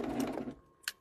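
A serger sewing machine stitching elastic runs briefly: a fast, close mechanical whirr for about half a second, then stops, followed by a small click.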